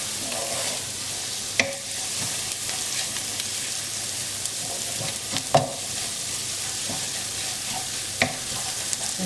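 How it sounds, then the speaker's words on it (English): Ground spices for a Bangladeshi egg curry sizzle steadily in a pan over medium flame, with occasional scrapes and knocks of a spoon stirring, close and continuous. "put the flame to medium now and stir this for about"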